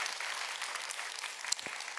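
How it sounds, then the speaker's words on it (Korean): Church congregation applauding during an early-morning service, steady moderate clapping filling the room throughout. "다시 한번 큰 박수 한번 해주시고요."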